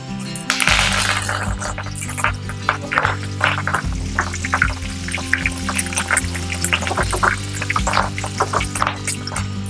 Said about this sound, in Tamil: பூண்டு நல்லா செவந்து பொரிஞ்சு வந்தோடனே அதையும் நம்ம எண்ணெயை வச்சு எடுத்து கொட்டி வச்சுக்கலாம்